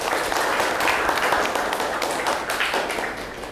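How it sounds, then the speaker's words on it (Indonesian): A classroom group claps hands together, a continuous burst of dense, bright applause lasting a few seconds without pause. "Tepuk tangan untuk kita semuanya."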